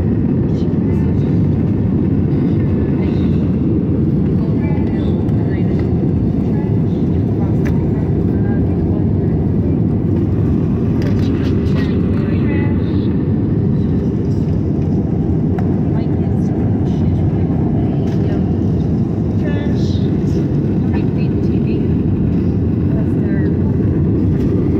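On final approach to New York City, the airplane cabin carries a loud, constant roar of engine and airflow rumble that stays even and unbroken throughout, with faint voices beneath it.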